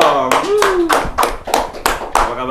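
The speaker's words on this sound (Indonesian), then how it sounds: "Tepuk tangan dulu dong" Several distinct claps ring out at an uneven rhythm as a guest baker is introduced on stage. A voice speaks between the claps, and the hand claps stand out sharp and close over the talk.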